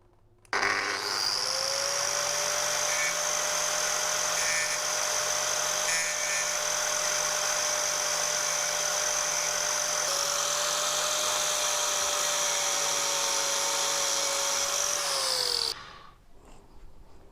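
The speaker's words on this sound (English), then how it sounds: "the best way for me is I'm just going to use an angle grinder. I'm going to try and flatten the head off here." An angle grinder grinds down a rivet head on the drive chain of a BMW S1000RR motorcycle, a loud, high, steady whine held for about fifteen seconds before it spins down.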